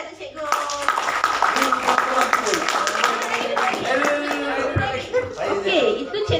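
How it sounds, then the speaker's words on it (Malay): An audience claps steadily for a teacher at a session for special education teachers, dense, continuous applause lasting several seconds at close range, with people talking and murmuring over it. "tepuk tangan tu cikgu"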